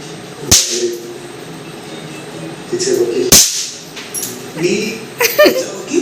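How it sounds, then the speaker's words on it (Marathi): Two sharp, loud bangs from Diwali firecrackers go off a few seconds apart, with people talking and laughing nearby between them. "फटाके घेतले आणि सुरू झालेले फटाके"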